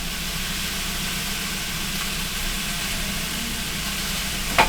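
Squash and green tomato sautéing with fresh garlic in a pan, a steady close sizzle running throughout with a low hum underneath and a brief clatter at the very end.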